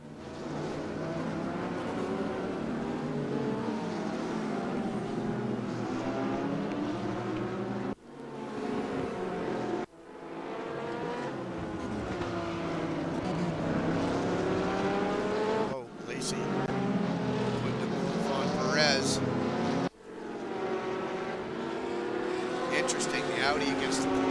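GT3 race cars, an Audi and a Porsche among them, lapping Circuit Zandvoort in the Raceroom sim, with loud continuous engine drone, shifting pitch and brief dips at gear changes, under a commentator's voice.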